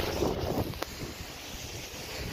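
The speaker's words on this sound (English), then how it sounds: "Ugh, wind." Strong wind gusts roaring across the microphone during a thunderstorm in Rotterdam, New York, a steady broadband rush with a brief sharp crack near the start and no voices.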